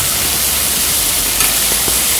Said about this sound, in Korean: 잘 구워지고 있습니다. 지글지글지글.